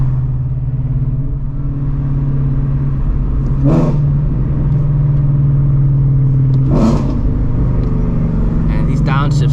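A heavily modified Subaru WRX STI making about 600 horsepower rumbles steadily, with two sharp rev blips as it downshifts, and another car's engine is heard underneath.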